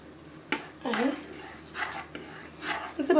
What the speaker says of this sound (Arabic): نسيبها بقى شويه على النار كده، نقلب فيها